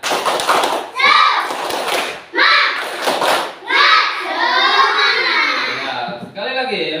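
Children in a classroom perform a rhythmic clapping cheer, shouting chant-like phrases between bursts of claps in quick patterned groups, close and loud, with voices prominent throughout.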